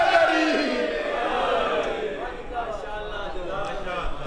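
Crowd at a Shia religious majlis gathering chanting slogans together, a loud massed roar of voices that swells at the start and then ebbs into scattered calls.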